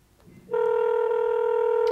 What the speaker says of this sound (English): And as you can see, it started to ring.